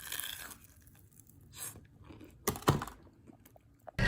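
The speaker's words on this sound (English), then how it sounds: "Listen to this crunch." A few sharp, close crunches of an air-fried Taco Bell Quesalupa taco shell being bitten and chewed, with quieter rustling between the bites.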